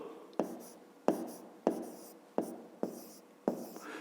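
Marker or pen strokes writing the number 1500 by hand on a board or paper for a fifth-grade math exercise: six sharp, evenly spaced scratching strokes, each fading quickly, close and clear with no talking.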